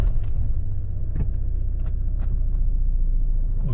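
A Citroën C4 Picasso with a PSA automated manual gearbox, engine cold and the car stationary, idles with a steady low rumble close by, with a few faint clicks and taps over it. No one speaks.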